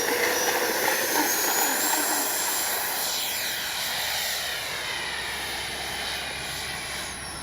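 FMS 64mm F-16 Thunderbird RC electric ducted-fan jet flying, a loud continuous high whine and rush of air, pitch shifting as it passes overhead, fairly close and steady throughout.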